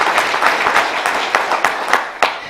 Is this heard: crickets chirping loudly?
no